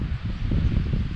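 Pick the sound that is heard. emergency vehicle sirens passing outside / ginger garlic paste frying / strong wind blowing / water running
strong wind blowing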